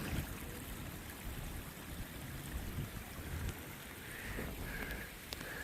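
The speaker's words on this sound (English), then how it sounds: "there's like an actual stream right here that goes out to the main source of water" A small stream flows steadily through a park at Schaars Bluff in Minnesota, its continuous trickling wash close by and unbroken, with no voices.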